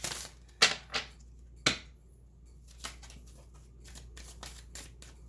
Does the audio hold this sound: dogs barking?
no